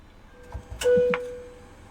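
Cockpit switch clicks in a PMDG airliner flight simulator, followed by a sustained electronic tone as ground power connects during startup, the tone beginning after a few sharp clicks and fading out about a second later.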